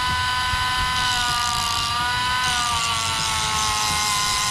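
A Hart grinder switched on and running steadily, a loud, continuous high-pitched motor whine with layered tonal hum that holds constant throughout, close up with no voices.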